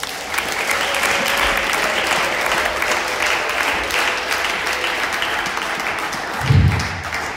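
A congregation at an Anglican church service applauds loudly and steadily during a sermon, a dense continuous clapping from many people filling the room, with a brief low thump near the end.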